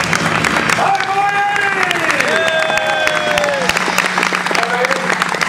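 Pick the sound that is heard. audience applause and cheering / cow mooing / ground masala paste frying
audience applause and cheering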